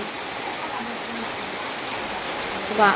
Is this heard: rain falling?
yes